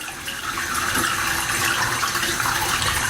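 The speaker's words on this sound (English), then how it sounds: "Gently through the sieve so it doesn't just blast the grains, we're just rinsing it nicely." About four litres of 75-degree water is poured through a sieve to rinse brewing grains in a small kitchen, making a steady, close gushing splash that runs the whole time without talk.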